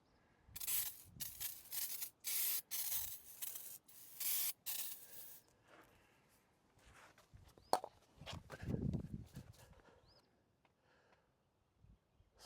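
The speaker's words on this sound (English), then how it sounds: "I'm gonna spray the last of it underneath here." Cleaner is sprayed underneath a John Deere 2025R compact tractor in a series of sharp, hissing bursts up close, followed by quieter rustling and handling noises.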